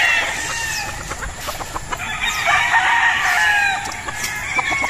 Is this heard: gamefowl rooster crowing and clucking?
yes